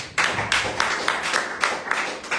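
Congregation at a worship service clapping in praise, steady rhythmic handclaps roughly every half second from a group nearby, loud and bright with no voices on top.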